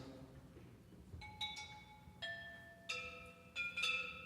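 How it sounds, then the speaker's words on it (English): Clay pots struck as percussion in a student recital, a few separate ringing taps with sustained tones, some in quick pairs, spaced over a few seconds and fairly faint against a quiet hall. "Can we hear some of the clay pot sounds?"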